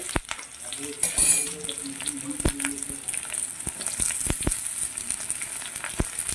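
Potato, banana and papaya stirred while frying in a pan: a soft steady sizzle under sharp spoon clinks and scrapes against the metal, close and intermittent, with a brief murmur of background sound early on.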